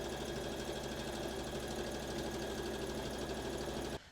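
A sewing machine stitches the center back seam of a kimono wrap dress, giving a steady, even mechanical whir with a fine rapid needle pulse that runs continuously and cuts off sharply at the very end.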